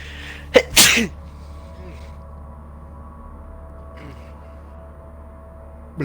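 One sharp, loud sneeze with a quick intake just before it, followed by a quiet room with low background hum.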